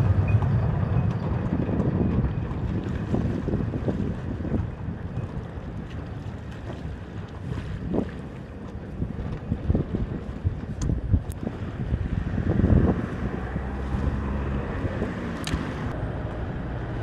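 Steady wind buffets the microphone on a fishing boat at sea during light game fishing off Malta, a continuous rushing roar with gusts and faint water and boat knocks, no talking.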